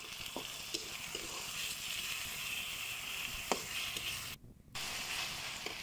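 Garam masala, cardamom and cinnamon fry in a pan, giving a steady close sizzle with occasional stirring clicks and a brief drop in the middle.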